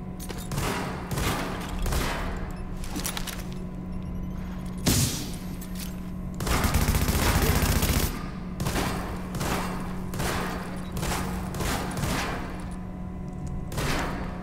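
Rapid gunfire in The Division, with repeated sharp shots throughout and a dense, louder burst of fire around the middle.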